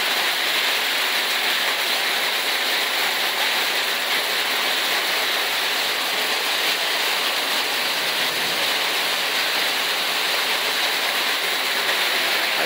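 Dense, steady hiss of hail and heavy rain pelting surfaces during a hailstorm in Taxco, Guerrero, Mexico, constant and loud throughout with no voices.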